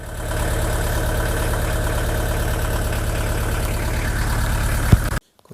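A 1.9 diesel engine in a Fiat Ducato van idles steadily with a rhythmic low knocking chug, close and loud, then cuts off abruptly near the end.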